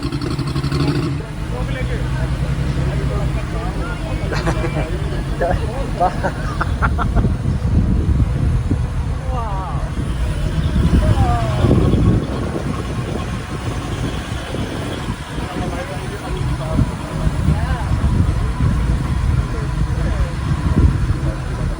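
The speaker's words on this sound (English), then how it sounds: "Listen to that engine." An old car engine rumbles low and steady throughout, with people talking loudly over it the whole time.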